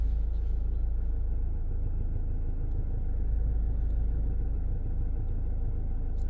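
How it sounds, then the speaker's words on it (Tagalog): A car engine idles steadily after starting, a continuous low rumble with no break, heard up close and alone during an on-board diagnostic procedure for a P06B8 NVRAM error code. "Start the engine."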